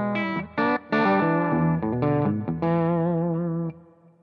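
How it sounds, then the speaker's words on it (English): Electric guitar played at full volume through an amp attenuator with the Plexi switch, sounding as sustained distorted chords and notes with a short gap, loud and alone. "Guitar full up again."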